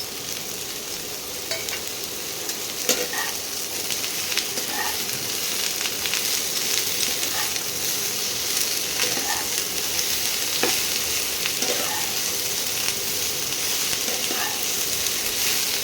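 Four green chillies and a chopped tomato fry in a pan for cauliflower and potato chechki, with a steady loud sizzle and occasional stirring clinks and scrapes throughout.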